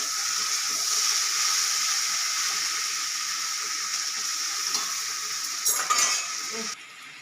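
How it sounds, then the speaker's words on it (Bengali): Potatoes frying in a pan, a continuous soft sizzle with faint utensil clinks near the end. "এদিকে আলু ভাজাটা হচ্ছে"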